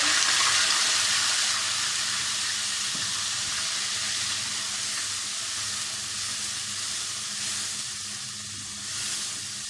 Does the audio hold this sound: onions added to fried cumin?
yes